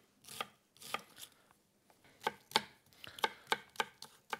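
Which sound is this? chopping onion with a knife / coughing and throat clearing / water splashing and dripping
chopping onion with a knife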